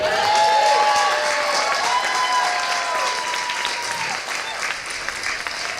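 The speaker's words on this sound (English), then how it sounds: "join me in giving one last big round of applause to our speakers." A crowd at an outdoor racial justice march breaks into loud sustained applause, a dense wash of clapping with scattered cheers that gradually tapers off.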